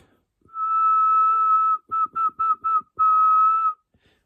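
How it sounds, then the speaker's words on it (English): A person whistles a clear tune alone: one long held note, then four short quick notes, then another long note, loud and close with no talking. "today I'm going to be teaching you guys how to whistle"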